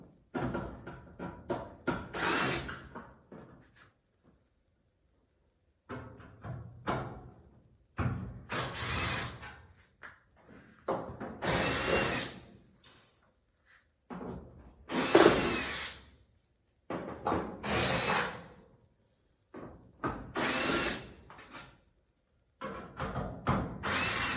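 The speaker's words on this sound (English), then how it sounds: "Looks like it's a 1/4 inch driver." A power drill with a 1/4 inch driver bit whirs in repeated short bursts, spinning screws out of a Maytag Bravos dryer panel, close and fairly loud with brief silent gaps between runs.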